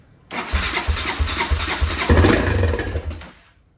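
ATV four-wheeler engine starting after a carburetor clean, a few rhythmic cranking pulses, then the engine catching and running roughly at a loud idle before cutting off, close by and with no talk.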